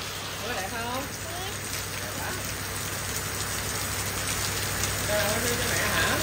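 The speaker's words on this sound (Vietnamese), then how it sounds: "Con nghe mưa hả?" Heavy rain pouring steadily onto surfaces outdoors, a dense constant hiss throughout, with voices talking faintly underneath.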